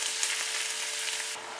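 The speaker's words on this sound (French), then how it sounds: "je laisse cuire la viande, qu'elle prenne une jolie couleur" Meat frying in a pan for a stuffed msemen filling gives a steady, fairly quiet hiss of sizzling that barely changes, softening slightly at the end, with no talking.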